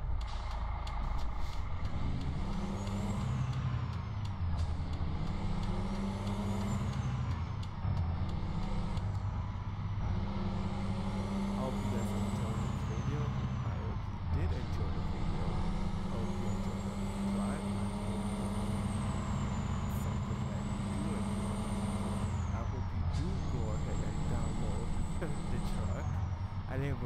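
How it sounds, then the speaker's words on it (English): A Freightliner Argosy truck engine in American Truck Simulator drones with a continuous low rumble, while high whining tones rise and fall over it and the engine note shifts with speed. "I remember driving this truck maybe once or twice, but I don't remember it sounding like this."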